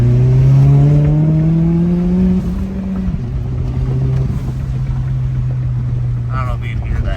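Audi B5 A4 engine with a Forge blow off valve, cap off, heard from inside while driving: a loud rising engine drone that drops as the revs fall, then a steady cruise hum, with a faint brief whoosh near the end.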